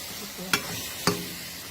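Food being stir-fried in a dry pan with no water added, lotus stems among the ingredients: a low steady sizzle broken by two sharp scraping clacks of the spatula against the pan, close and alone.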